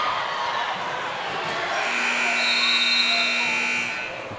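A long steady electronic horn sounds over a busy high-school gymnasium crowd at a boys varsity basketball game, ending the quarter at halftime, lasting about two seconds amid continuous crowd noise.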